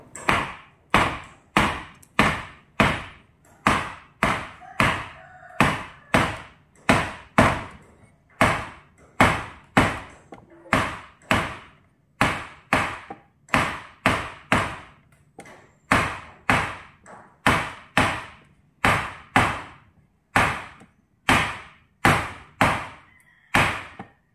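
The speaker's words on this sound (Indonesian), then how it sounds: "Kita ketok." A hammer taps a cylinder liner into the block of a Yamaha 15 hp outboard engine, a long run of sharp, evenly spaced knocks, close and distinct, roughly one or two per second with brief pauses.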